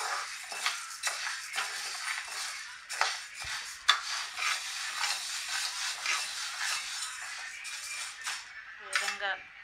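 Urad dal being dry-roasted in a pan over low heat, stirred with a metal spoon, giving continuous gritty scraping and rattling of lentils against the pan with occasional sharper clinks, close and steady.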